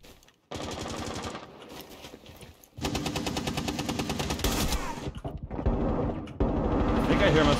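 Rapid automatic gunfire from a competitive first-person shooter game, loud bursts of rattling shots repeating across most of the stretch with brief gaps, mechanical weapon clatter mixed in, and a player's voice faintly under the action.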